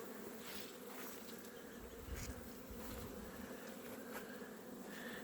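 Honey bees buzzing around a beekeeper at an outdoor apiary, a steady dense hum of many insects close to the microphone with individual bees droning past, no talking.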